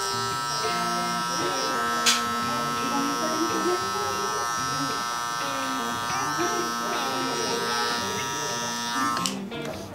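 Electric hair clipper fitted with a 1.5 guard buzzing steadily while cutting hair during a barber's burst fade with mullet, the motor hum continuous and close, with someone talking over it.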